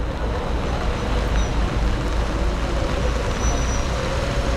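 Road traffic at a blocked-off city intersection in Korea begins moving again, a dense steady rumble of buses, trucks and car engines with a broad constant roar and no voices.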